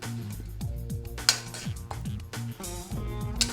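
Boiled taro roots are transferred into a bowl with a metal utensil, producing busy clinking and scraping of cutlery against dishes and pots, close and fairly loud, with irregular knocks and ringing tones.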